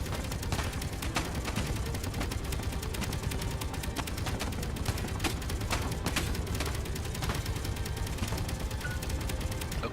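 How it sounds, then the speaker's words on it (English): Sustained rapid gunfire in Space Engineers, a dense, unbroken rattle of shots with mechanical clatter running steadily throughout, loud and close. "I don't even know if I'm shooting at anything."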